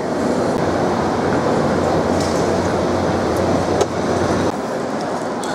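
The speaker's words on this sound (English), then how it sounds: "There's a train right there." Heard from aboard a Korean train between Busan and Seoul, another train rushes past with a loud, continuous rumbling roar and airy wind noise that stays steady, then briefly drops near the end.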